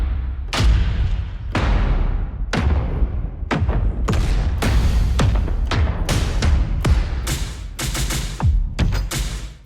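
A rapid series of heavy cinematic impact hits, each a booming thud with a bright crack, played one after another with no talking.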